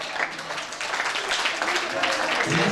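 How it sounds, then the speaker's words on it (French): A crowd applauds loudly at a seniors' meal, a dense, continuous wash of clapping that holds steady throughout, with voices mixed in beneath it. "On applaudit bien fort s'il vous plaît"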